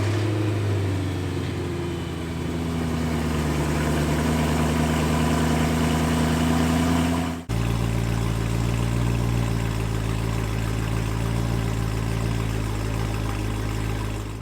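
A 2011 BMW M3 idles while warming up, producing a steady, close, low engine rumble. The tone shifts slightly midway and then holds at a lower, fuller drone, with no voices.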